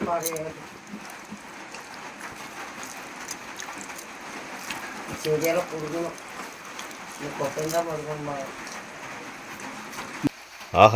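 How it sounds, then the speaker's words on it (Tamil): Heavy rain falls steadily outside at night in a forest tribal setting, a continuous broad hiss with people talking over it throughout and a sharp louder knock near the end. "வெளியே நல்லா மழை பெய்யுது பாரு"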